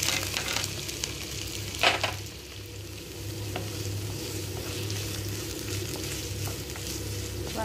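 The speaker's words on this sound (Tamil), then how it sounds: "இப்போ வெங்காயம் கொஞ்சம் நல்லா வதங்குது" Onions sautéing in a pan after ginger-garlic paste, a soft steady sizzle with occasional spoon scrapes and one sharper clatter early on, fairly faint and without talking.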